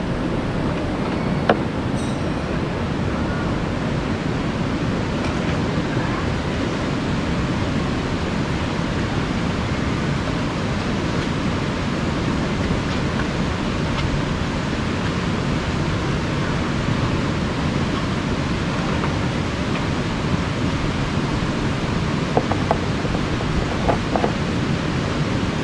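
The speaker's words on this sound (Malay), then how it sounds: "So kita keluarkan air." Meltwater pours steadily out of the side drain of an AHIC RH35 cooler box at a campsite, a continuous close splashing gush that stays even for the whole stretch.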